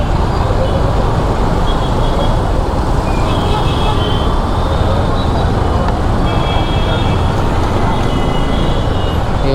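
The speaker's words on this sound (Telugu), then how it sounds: "full traffic jam," Jammed road traffic rumbles loudly and continuously nearby, with engines idling and creeping and several thin horn toots rising over the dense roadway noise.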